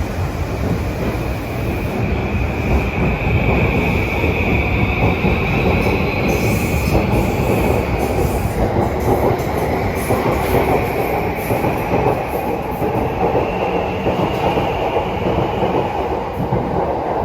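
A conventional-line commuter train arrives at a platform in Tokyo Station. It rumbles loudly and continuously close by, with wheels clicking over rail joints and a sustained high squeal from the wheels as it slows, and no voices are heard.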